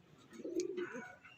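A single racing pigeon, just returned from a race released at Lopez, Quezon, gives a soft, low coo lasting about half a second. The sound is fairly near and quiet against light background noise.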